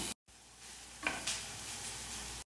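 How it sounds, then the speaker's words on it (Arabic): Crushed garlic and green onion sautéing in olive oil, a quiet steady sizzle with a brief gap early on and a couple of soft stirring scrapes. "اضفت له زيت زيتون وثوم مهروس نقلب الثوم لحد ما بدا يتحمر"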